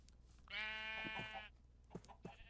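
Sheep bleating in Minecraft, one clear nasal bleat lasting about a second, followed by soft blocky thuds and a fainter second bleat, close and alone without speech.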